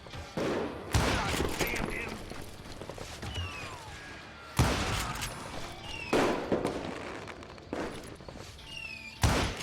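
Gunfire from the Western shooter video game Call of Juarez Gunslinger: loud gunshot bursts, some with ricochet whines, cut through a dense, continuous battle clamor, with sharp blasts near the start, in the middle and at the end.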